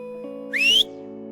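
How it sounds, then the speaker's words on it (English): A character whistles in the retro comedy-horror JRPG Felvidek: one clear rising whistle, about a third of a second long. It sits over a steady game music background. "Who are you whistling at, sod?"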